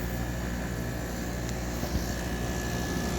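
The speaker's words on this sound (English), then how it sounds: "It's working. I don't see any sparks. Compressor's working." A dehumidifier's compressor and fan run together, making a steady, even mechanical hum with a faint whirring drone that stays constant throughout, with one small click partway through.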